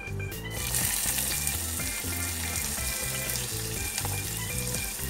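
Onion goes into hot oil with mustard seeds and cumin for a mung and moth bean usal, setting off a loud burst of sizzling. Steady frying and stirring follow, close up with no talking.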